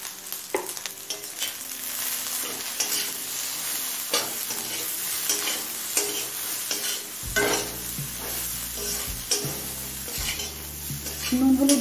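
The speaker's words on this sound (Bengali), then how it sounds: "নুন হলুদ দিয়েও ভেন্ডিটা 3-4 মিনিট ভেজে নিয়েছি।" Okra and onion frying in a pan with salt and turmeric, a soft steady sizzle broken by repeated spatula scrapes and stirring knocks, with faint background music underneath.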